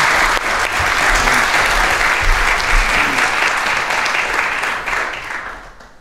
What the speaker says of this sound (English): a real strong round of applause for being so kind of his time tonight